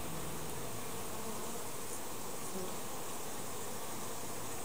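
Steady, dense buzzing of many honey bees stirring around an open hive during an inspection, close by, a continuous droning hum with no voices.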